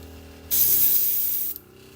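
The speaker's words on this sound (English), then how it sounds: "When I have an airbrush and it flows right, that's how I know I'm in for a good night." An airbrush sprays paint while painting Warhammer miniatures, giving a single steady hissing burst of about a second that starts and stops abruptly over quiet background.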